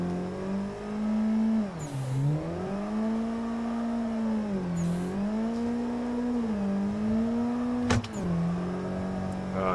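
An engine note in a drifting racing game played on a direct drive wheel holds steady and dips repeatedly as the car slides, with a constant droning tone, a few brief clicks and a sharp snap near the end.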